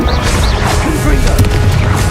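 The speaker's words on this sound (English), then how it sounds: "Confringo." Confringo explosive spell in the video game Hogwarts Legacy, a loud booming blast with sharp cracks and whooshing effects, while a voice talks over the chaos.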